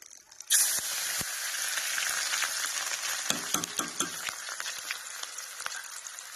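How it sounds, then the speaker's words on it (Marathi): Chopped onion, green chili and garlic hit hot oil with a sudden loud sizzle that holds as a steady bright hiss, broken by occasional clicks of stirring. "तेल मस्तपैकी गरम झालेलं आहे आणि मी टाकून घेते ह्याच्यात कांदा हिरवी मिरची आणि लसण"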